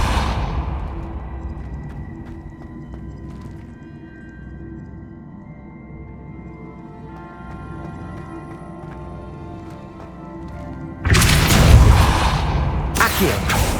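The Depulso force-push spell from Hogwarts Legacy gives a sudden loud whooshing blast that breaks in after a long stretch of low ambient hum, followed by a second burst shortly afterward.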